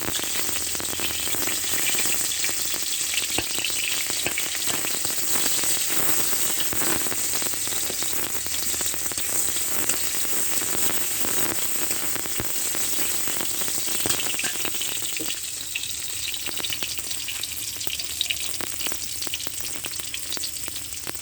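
Chopped onion frying in a small amount of oil, giving a steady, dense sizzle with light stirring scrapes throughout, close and continuous with no talking.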